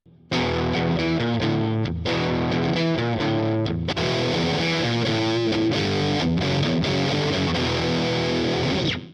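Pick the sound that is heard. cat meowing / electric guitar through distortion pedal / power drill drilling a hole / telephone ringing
electric guitar through distortion pedal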